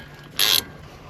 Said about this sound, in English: I'm going to take and pull these bolts off